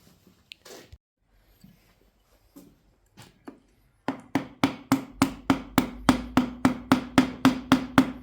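Piston being tapped down into a cylinder of a David Brown 885 tractor engine during a rebuild, first a few scattered knocks, then a steady run of about fifteen evenly spaced, close, sharp taps with no talking.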